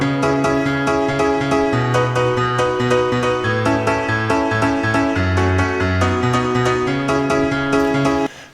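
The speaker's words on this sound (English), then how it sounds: "I just play this on the piano, and then for the refrain, some more" Piano playing a melodic refrain with steady chords and a moving bass line, full and loud throughout before cutting off at the end, no talking.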